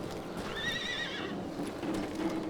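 A horse whinnies in the video game Call of Juarez: Gunslinger, a wavering neigh over steady hoof clip-clop and background game ambience.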